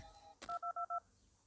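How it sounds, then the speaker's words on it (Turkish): A phone in the video game Five Nights at Candy's 2 sounds a click followed by four short, evenly spaced dual-tone beeps, clear and loud over a low hum. "Telefon sesini duydu."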